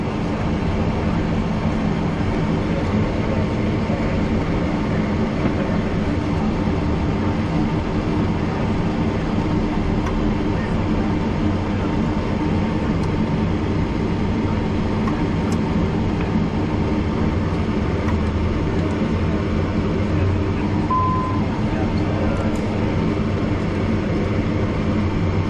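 Steady, loud broadband roar of a Learjet 45XR's number one engine during start, holding an even level for the whole stretch with no voices over it.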